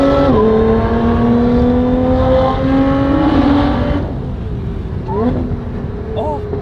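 A 400-horsepower supercharged sports car accelerates hard up close, its loud engine roar carrying a steady high supercharger whine that eases off partway through, then swells again with short revs.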